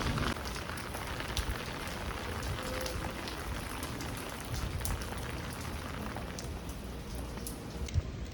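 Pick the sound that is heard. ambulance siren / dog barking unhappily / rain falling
rain falling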